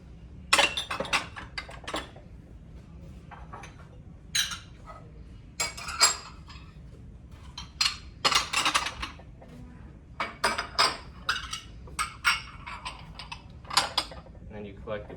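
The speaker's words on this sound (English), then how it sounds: "Always make sure to stack similar dishes to save room on your tray." Dishes are stacked onto a serving tray while clearing a table: irregular clinks and clattering knocks of crockery and cutlery set down one after another, close and fairly crisp over a low background hum.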